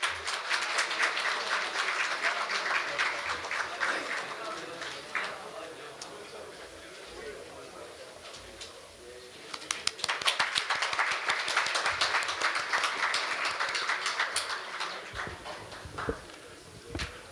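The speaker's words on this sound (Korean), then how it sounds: "여러분 큰 박수로 맞이해 주시기 바랍니다" A conference audience welcoming a keynote speaker at a law school anniversary ceremony claps in a sustained, fairly soft patter that dips briefly midway and then swells again before fading.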